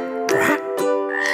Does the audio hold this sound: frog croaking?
yes